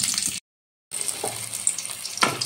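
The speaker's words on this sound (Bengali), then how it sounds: "এবার দিয়ে দিলাম 1 চামচ কালো জিরে আর একটা কাঁচা লঙ্কা।" Black cumin seeds and a green chilli crackle in hot mustard oil in a kadai, a close, bright sizzle with a short silent break and small pops and spatters.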